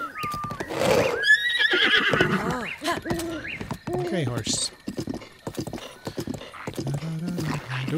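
Horse from a Zelda video game neighing and whinnying with clip-clopping hooves, mixed with game music tones and someone talking over it.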